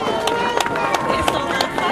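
Applause from a crowd at an outdoor march against violence toward children, welcoming a deputy; dense, steady clapping with sharp hand claps standing out throughout, loud and close, with some background crowd murmur.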